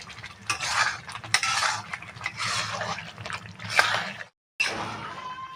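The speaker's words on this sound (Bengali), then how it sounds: "মশলাটা ভালো করে কষিয়ে নেব, তারপরে এতে আলুগুলো দিয়ে দেব।" A utensil scrapes and clinks in a pan as spice paste for Kashmiri dum aloo is stirred and fried, giving repeated moderate strokes with a short silent break near the end.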